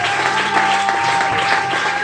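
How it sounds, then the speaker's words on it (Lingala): A church congregation applauds with dense, steady clapping filling the room, loud and continuous throughout the short burst, with some voices and a sustained tone mixed underneath. "Acclamons fort pour le Seigneur."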